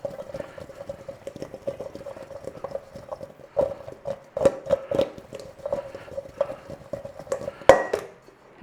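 Boiled potatoes fluffed up in a bowl for air-fryer roast potatoes, with repeated rattling knocks and scrapes close by over a faint steady hum.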